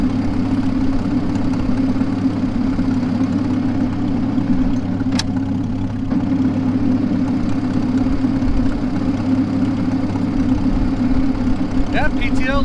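A 1939 Farmall H tractor engine runs steadily with the PTO engaged, a loud, close, continuous low rumble with no gaps, and a brief faint sound near the end.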